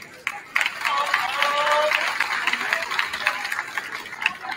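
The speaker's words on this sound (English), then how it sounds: "please, another round of applause for your 2024 MHS Wall of Fame inductees" A school gym audience gives steady, sustained applause for high school Wall of Fame inductees, a dense wash of many hands clapping at moderate distance, with a few voices and a whistle-like tone faintly mixed in.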